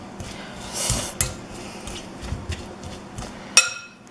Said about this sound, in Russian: Нужно размять вилкой эту туну.